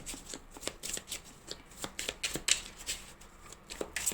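Tarot cards cut and shuffled by hand, a close run of crisp riffling flutters and soft slaps in an uneven rhythm, with no voices over it.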